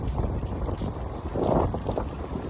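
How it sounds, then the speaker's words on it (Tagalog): Strong beach wind at Baler buffets the microphone in loud, rumbling gusts, swelling briefly in the middle of the short stretch. "Sobrang lakas nga ng hangin kaya dinig na dinig sa mic."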